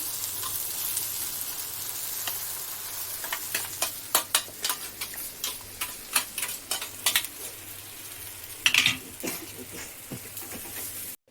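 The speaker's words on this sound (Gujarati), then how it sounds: "અહીંયા રોટલી તળી દીધી છે." Roti frying in a pan in a home kitchen, a steady sizzle under a run of sharp scraping and stirring clatters from a utensil against the pan, close and fairly loud.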